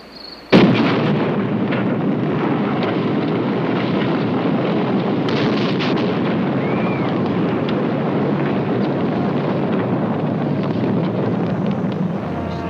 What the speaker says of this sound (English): a signal flare illuminates the barren New Mexico desert as scientists anxiously await the detonation of the world's first atomic weapon